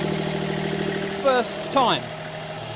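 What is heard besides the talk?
refitted E20 engine starting and running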